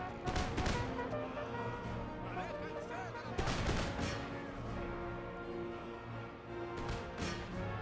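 Musket volleys crackle in Empire: Total War, several sharp ragged bursts of massed gunfire separated by pauses, over a low battlefield din and soft music.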